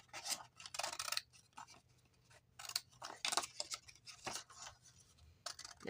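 Scissors snip through paper for an Easter card in short, quiet bursts of crisp cutting and rustling, spaced by brief pauses, close by and with no voices.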